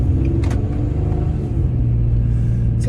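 A car engine fitted with a Z1 Offroad cold air intake, heard from inside at partial throttle: a steady, fairly loud throaty rumble with a mild rise in revs and no talking.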